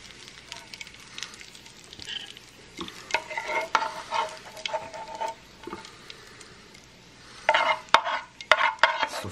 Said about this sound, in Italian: La sfrigolata ha un suo perché.